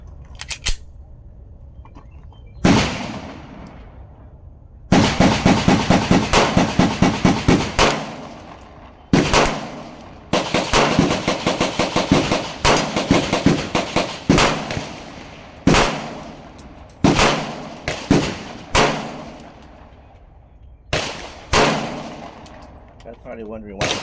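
Rapid strings of pistol shots from a Glock 19X and an Echelon, loud and close, fired in fast bursts with short pauses between strings over about twenty seconds.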